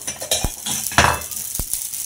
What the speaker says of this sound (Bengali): দেখো সর্ষেটা এখানে ফুটছে আমাদের